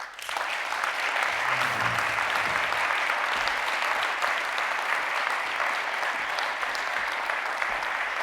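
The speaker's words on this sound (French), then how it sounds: "profiter de l'occasion pour les applaudir bien fort" An audience at a security forum in Chablais applauds steadily and warmly, the dense clapping sustained at an even level throughout.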